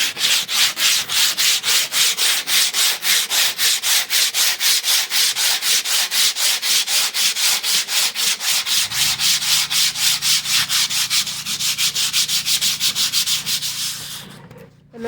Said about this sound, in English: they can just probably sand by hand